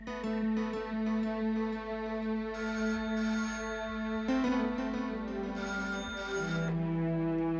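A telephone rings in a home setting, its ringtone playing a repeating melodic pattern over a steady tone for several seconds with no talk.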